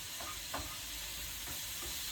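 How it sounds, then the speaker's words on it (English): Fish frying in a pan is stirred, with a steady low sizzle throughout and a few soft scraping strokes of the utensil against the pan, close up and with no talking. "Let's give the fish a stir."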